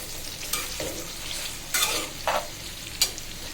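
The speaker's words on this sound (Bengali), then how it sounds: "পেঁয়াজ রসুন কাঁচামরিচ এগুলো ভেজে নিচ্ছি ভালোভাবে" Onion, garlic and green chillies frying in a pan make a continuous soft sizzle, punctuated by a few sharp spatula scrapes and clicks against the pan.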